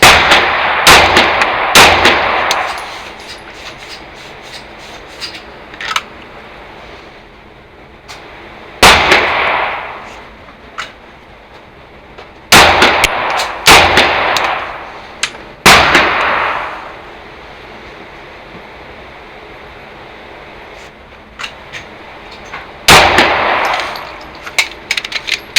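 Loud pistol shots ringing off a steel dot target during a Dot Torture drill, fired singly and in spaced pairs and bursts with long quiet gaps between strings, no talking.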